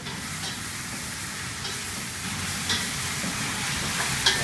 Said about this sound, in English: And now we're going to add the cauliflower.